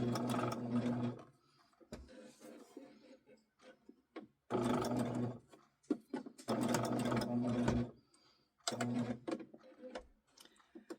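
Sewing machine stitching around the outline of an appliqué letter D on fabric, running in several bursts of rapid, whirring needle strokes separated by pauses with small clicks and handling noises, close and clear.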